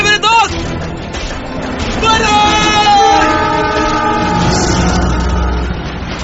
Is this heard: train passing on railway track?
yes